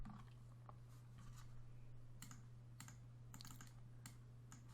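Typing on a computer keyboard, with irregular bursts of key clicks close by over a steady low electrical hum.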